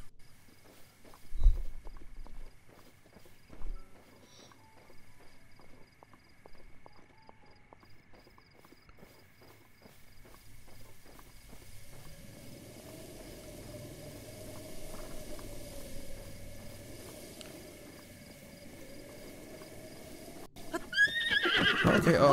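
A white horse in The Legend of Zelda: Breath of the Wild gives a few faint hoof thuds at first. A long, quiet neighing call then rises over soft ambient insects, and a louder clatter comes at the end.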